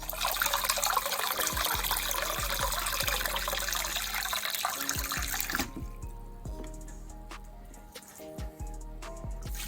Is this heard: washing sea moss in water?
yes